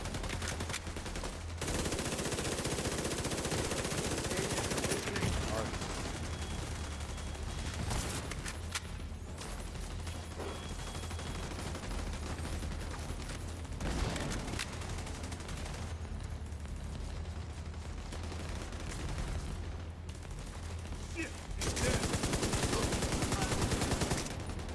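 Repeated gunfire from a video game, sustained bursts of rapid shots fired into the air, loud and dense across the whole stretch with a brief lull near the start and a louder burst at the end.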